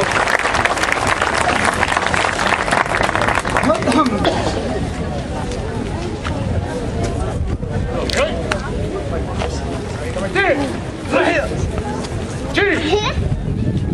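Dense, loud audience applause at a Shinkyokushinkai karate exhibition at an outdoor flower fair in La Paz, Uruguay, under crowd chatter and an announcer's voice. The applause fades and gives way to scattered claps and talk.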